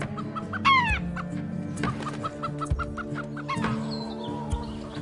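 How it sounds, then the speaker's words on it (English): Ex-battery domestic chickens cluck close by in a steady, overlapping chorus, with repeated short clucks and a few louder rising squawks. "But how much wild behaviour do Jane's ex-battery chickens still have?"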